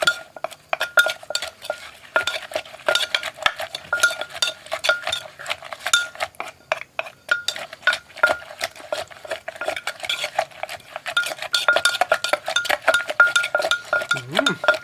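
A pestle knocks and clinks rhythmically in a mortar while som tam papaya salad is pounded with fish sauce added, steady close strikes with scraping, and people talk under the work.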